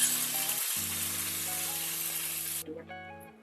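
Curry leaves dropped into about three tablespoons of hot oil in a frying pan crackle in a loud, steady sizzle beneath sustained musical tones, then the hiss cuts off abruptly near the end.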